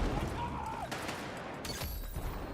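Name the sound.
gunfire from a PW5A3 rifle in a video game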